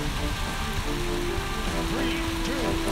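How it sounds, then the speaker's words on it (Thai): Rain falls outside a house as a constant, even hiss of drops on surfaces, steady throughout and heard under a faint continuous tone and some background voice. "ตอนนี้ที่บ้านพี่ฝนตกนะไม่รู้เสียงฝนจะเข้าหรือเปล่านะ"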